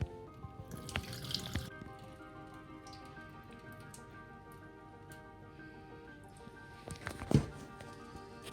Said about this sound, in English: drain away this water. This is how we wash the rice.